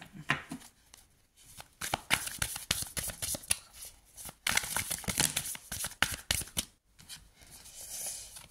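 Tarot cards are shuffled and handled up close: a run of quick papery riffles and slaps in irregular bursts, fairly soft, with brief pauses between handfuls and no talking.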